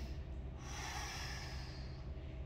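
A person takes a slow, deep breath during a yoga camel pose, a soft, airy inhale swelling and fading over about two seconds at low volume.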